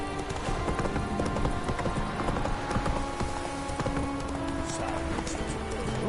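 Horse hooves clip-clopping in The Witcher 3 video game, a steady running rhythm of hoofbeats held loud and continuous throughout against a dense background of game sound.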